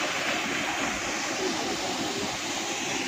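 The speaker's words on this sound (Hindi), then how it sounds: "ये पानी गिर रहा है देखें" Steady, dense rushing roar of water falling at a waterfall by the Kalyan Kedareshwar Mahadev cave temple, a continuous hiss with no breaks, fairly distant and even throughout.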